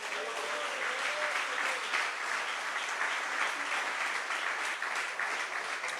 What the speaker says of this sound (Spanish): ¿Cuántos pueden aplaudir el nombre del Señor?